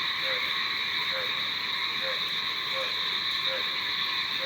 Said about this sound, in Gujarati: અહીંયા પાણી ભરાયું તો દેડકાએ બોલી ગયા હતા